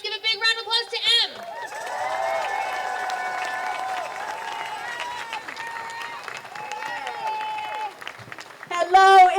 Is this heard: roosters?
no